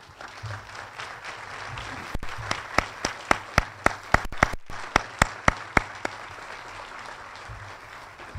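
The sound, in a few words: applause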